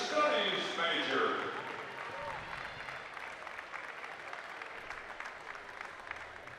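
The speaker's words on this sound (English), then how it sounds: "round of applause for our seniors of the cheerleading team" Applause fills a gym for seniors of the cheerleading team at a college basketball senior day, loud at first and then thinning to scattered clapping and crowd murmur.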